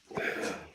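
A dog gives a short, breathy vocal grumble, close to the microphone, lasting under a second in an indoor man cave.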